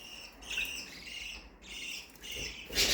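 Budgerigars in an indoor breeding room chirping and squawking in short, bright bursts, close by and fairly loud, with a sharper squawk at the end.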